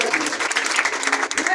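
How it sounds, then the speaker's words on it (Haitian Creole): A church audience in Haiti applauds children during a quiz contest, dense steady clapping from a crowd with a voice speaking over it. "applaudissez Timounio, applaudissez"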